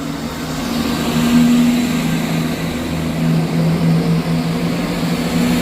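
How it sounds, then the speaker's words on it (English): A Scotrail service to Dundee pulls out of Edinburgh Haymarket station with a steady, droning engine rumble and a humming tone that swells and eases slightly as it moves off. "departing out over here is the 11:04 Scotrail service from Edinburgh Waverley to Dundee"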